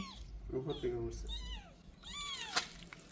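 A small white kitten separated from its mother meows repeatedly in short, rising-and-falling plaintive cries, fairly close, with people's voices mixed in around the calls.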